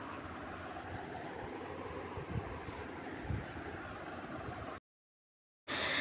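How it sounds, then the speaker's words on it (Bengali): Water poured over a Lakshmi idol to bathe it during a Thursday home puja makes a steady, close rushing pour that cuts off abruptly into silence, then briefly resumes at the end. "তো এখন আমার মা লক্ষ্মীকেও স্নান করিয়ে দিচ্ছি।"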